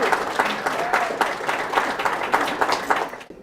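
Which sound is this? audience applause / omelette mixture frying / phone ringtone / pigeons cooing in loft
audience applause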